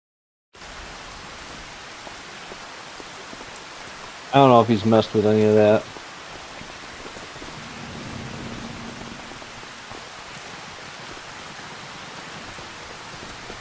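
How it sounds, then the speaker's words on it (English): Steady rain falling in the Farming Simulator 25 video game on the Buscot map, a constant hiss running throughout at even level, briefly interrupted by a short burst of speech. "Just rain."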